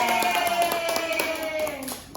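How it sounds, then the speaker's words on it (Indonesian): Schoolroom class clapping for a student, a short burst of scattered handclaps under a sustained tonal hum, fading out near the end. "Tepuk tangannya untuk Mbak Lisa."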